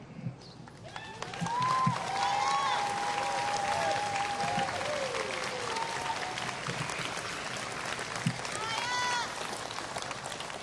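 Audience applause at a fall 2017 commencement ceremony, a steady, dense clatter of clapping filling the hall throughout, with some voices and a brief whistle-like tone mixed in near the start.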